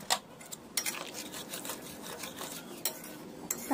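Magur catfish curry with fried potatoes being stirred in a pot, a few scraping and clinking utensil strokes against the metal with soft rubbing in between, close and fairly quiet.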